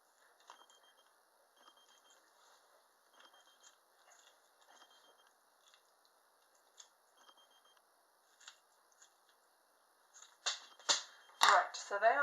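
Blunt scissors cut through heart tissue during a dissection, giving a string of faint, soft snips at an even pace. A few louder, closer handling sounds follow near the end.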